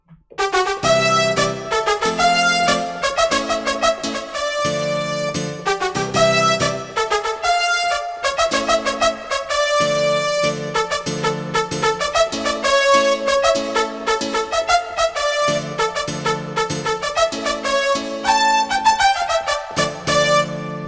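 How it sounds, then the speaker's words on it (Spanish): A synthesized brass sample plays a bouncy, rhythmic melodic line with short stabbed chords repeating in a steady groove, bright and close throughout with no voices. "Luego un brass que suena así."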